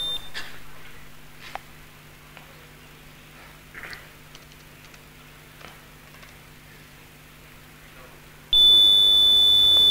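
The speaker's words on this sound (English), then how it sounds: "If I start both the buzzers together," Two electronic buzzers sound together to demonstrate wave superposition, heard in an auditorium at PyCon India. A steady loud tone starts abruptly near the end after quiet room noise and faint talk.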